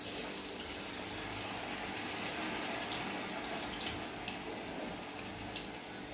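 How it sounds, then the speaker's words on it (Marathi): Vadas fry in hot oil with a steady, soft sizzling hiss and faint crackles throughout, without talk. "हे तेल आपले आता असं तापलेलं आहे, हे वडे आता आपल्याला असे सोडून घ्यायचे।"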